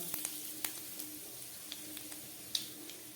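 Panch phoron spices and asafoetida tempering in hot oil for a vegetarian kachori curry, a steady faint sizzle with small pops and crackles scattered through it.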